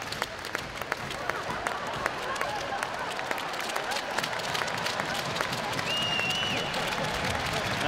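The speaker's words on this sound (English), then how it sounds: "the crowd are applauding him" A crowd at an ice hockey game between the Sheffield Steelers and Nottingham Panthers applauds a player, sustained scattered clapping at moderate distance with a commentator's voice faintly over the arena noise.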